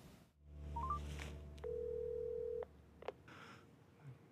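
A telephone call is placed: a short run of rising keypad tones, then a long steady dial tone, followed by a couple of sharp clicks and quiet rustling, with no talk.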